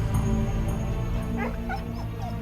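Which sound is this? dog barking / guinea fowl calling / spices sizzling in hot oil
dog barking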